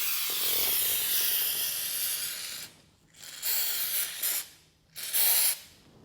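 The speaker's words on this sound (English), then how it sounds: "when you're putting your lithium grease on your torsion spring, if you have one, I suggest trying to put it on the top" An aerosol can sprays lithium grease onto a garage door torsion spring in a long, loud, close hiss, followed by two shorter bursts separated by quiet gaps.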